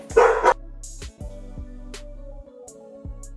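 A dog barks loudly indoors, a single sharp close bark followed by quieter short yips and whimpers over a steady low hum.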